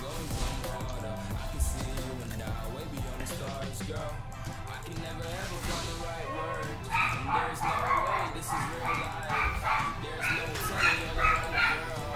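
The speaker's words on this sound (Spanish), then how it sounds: "Siento los ladridos, es que cuando llaman, cuando tocan el timbre, macho, se pone aquí a ladrar." A pet dog barks and yips repeatedly at a ringing doorbell inside a home, loud excited barks in irregular bursts, with someone talking over it during an online game session.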